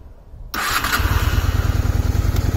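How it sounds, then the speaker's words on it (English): A cold 1992 Honda Steed 400 motorcycle engine cranks and catches after a short quiet pause, then settles into a loud, close, steady throbbing idle with no speech. "So I will start the bike for you now."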